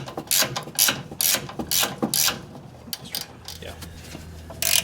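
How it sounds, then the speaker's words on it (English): A 14 wrench ratchets bolts on the suspension of a 1995-2004 first-generation Toyota Tacoma during a shock, coil and leaf spring replacement, making repeated close, sharp clicking bursts in an irregular rhythm. "we'll get a 14 wrench and we'll start working on those"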